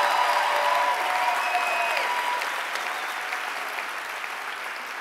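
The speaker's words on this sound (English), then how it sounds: "a big round of applause for these three very," A loud wash of audience applause at an Ignite Phoenix slideshow karaoke event, sustained and then slowly fading over a few seconds, with no voices.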